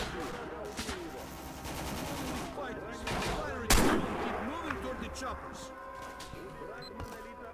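Gunfire from a STALKER: Call of Pripyat firefight comes as scattered shots and one loud close blast, with a voice talking over the game's ambient noise.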